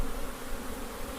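Honey bees swarm and buzz around an opened long hive, a dense, continuous drone filling the air close by with no other sounds.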